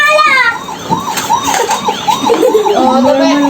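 A police car siren wails close by, its pitch sweeping rapidly up and down in a loud warbling yelp, while people talk and shout over it.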